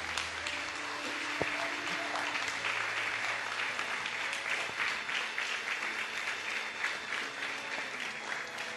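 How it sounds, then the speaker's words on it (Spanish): Congregation applauding during a Spanish-language church service, steady clapping from many hands filling the room for the whole stretch, dense and even with no talk over it. "Dele un aplauso al Señor en esta mañana"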